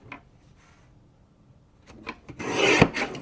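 Paper trimmer slicing fuchsia cardstock: faint handling at first, then a louder rasping slide of the blade building to a peak near the end, with no talk.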